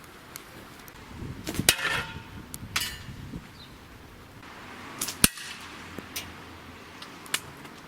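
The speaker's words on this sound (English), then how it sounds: "chuck a couple of stones in and have a go at seeing how close we can get to smacking that shovel" Stones fired from a homemade survival slingshot smack into a shovel outdoors, producing several sharp, scattered cracks and clanks of varying loudness spread over several seconds, one especially loud metallic hit midway, with no talk.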